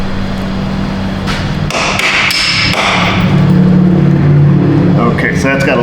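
A hammer strikes at a strut bolt on a Dodge Charger during rear coil spring work, giving a few sharp metallic knocks over loud, steady garage noise.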